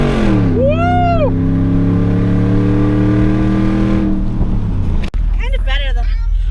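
Ford F-150 pickup with a Coyote V8 and muffler delete revving loudly, the note climbing and holding before dropping off sharply; a voice chimes in briefly near the start and people talk at the end.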